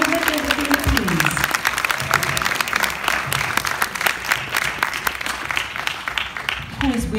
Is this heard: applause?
yes